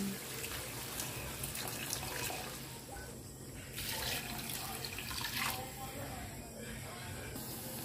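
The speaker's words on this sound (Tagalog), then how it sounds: "Lagyan natin ng tubig." Water runs steadily into a cooking pot, a continuous hissing splash with a couple of brief surges, near and fairly quiet, with no talking.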